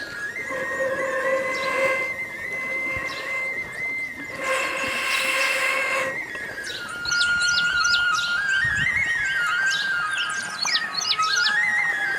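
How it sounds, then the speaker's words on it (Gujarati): A pressure cooker boiling bitter gourd in salted water lets out two long, steady whistles in separate bursts, with bird chirps and tweets carrying on throughout. "હવે આપણામાં 2 સીટી થવા દે તો આપણા કારેલા બફાઈ જાહે"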